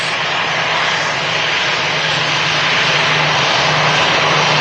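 An EasyJet airliner's jet engines roar steadily at Manchester Airport, a loud, broad, continuous rush that swells slightly as the plane passes, with no voices.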